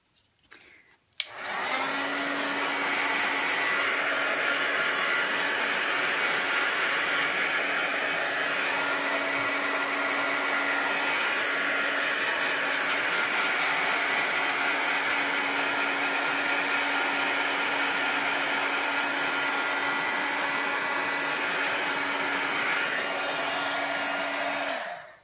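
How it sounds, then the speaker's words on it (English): A heat tool blows hot air over a watercolour snowflake card, a loud steady whirring roar that starts abruptly and runs unbroken up close with no talking. "let me get my heat tool out"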